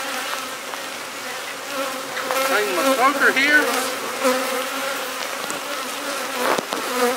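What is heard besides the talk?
honeybees buzzing around opened hive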